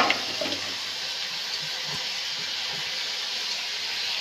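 Tap water runs steadily over a steel utensil being washed in a home kitchen, a constant close hiss and splash with a few faint knocks and clinks beneath it.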